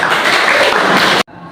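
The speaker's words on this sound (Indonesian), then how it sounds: "oke, tepuk tangan" Classroom applause during a teaching-practice session, a dense burst of clapping that holds steady and loud, then stops abruptly.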